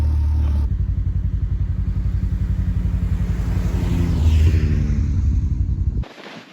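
A Can-Am X3 side-by-side engine revs hard and close in a snowy winter setting, a loud continuous throbbing roar that swells in the middle, then cuts off abruptly near the end.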